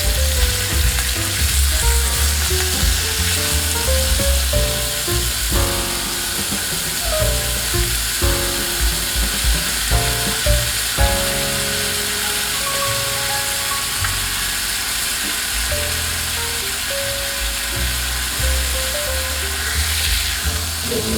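Fish steaks fry steadily in a pan, a loud, continuous sizzle with occasional scraping and stirring knocks, and no voices over it.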